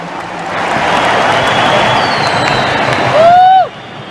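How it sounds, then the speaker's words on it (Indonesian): A big outdoor crowd at a political party rally produces a broad, roaring wash of applause and cheering, with rising whistle-like tones near the end before the noise swells briefly and then drops away. "Kita beri tepuk tangan untuk beliau."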